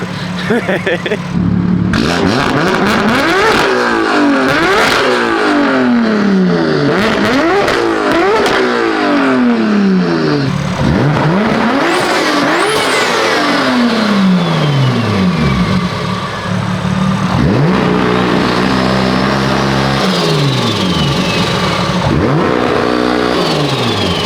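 A 900-horsepower BMW M4 engine revs hard again and again through a loud, raspy aftermarket exhaust, climbing and dropping in pitch, close by and aggressive.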